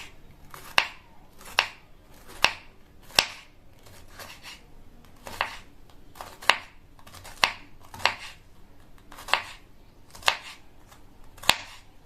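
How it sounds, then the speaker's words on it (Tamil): A knife cutting bitter gourd into thin slices on a board, about a dozen crisp, evenly spaced chops close by with short pauses between strokes. "இதை நம்ம மெல்லிசான ஸ்லைசஸா கட் பண்ணணும்."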